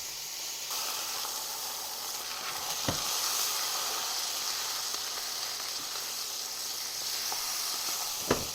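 Steak sizzles and hisses steadily in a hot pan as it cooks well done, a continuous close frying sound with a couple of faint clinks and no talk.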